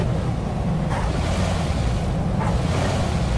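Water rushes and splashes steadily as a vehicle drives through water in PUBG, with a low engine-like rumble and surges of spray.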